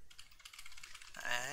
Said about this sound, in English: she's typing in all caps